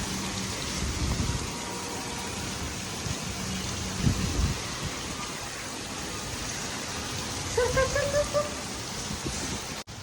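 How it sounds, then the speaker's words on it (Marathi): A constant wash of heavy monsoon rain fills the background, with a few low thuds and a short tonal honk near the end. "हे बघा कसला पाऊस आला मोठा"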